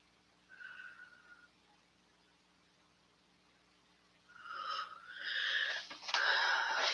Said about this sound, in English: Oh, just starting to snore.